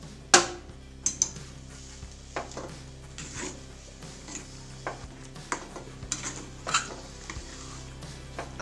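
Grated coconut and jaggery are stirred in a pan, a spoon scraping and clinking against the metal in irregular close strokes over a faint low background hum.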